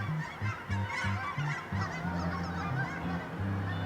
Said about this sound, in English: Wait for the largest flock of geese ever to fly by.